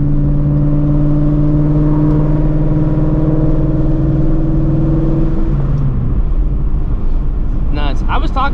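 A straight-piped Shelby GT350 engine droning loud and steady from the cabin, then the tone drops as the pull eases, with a voice talking over it.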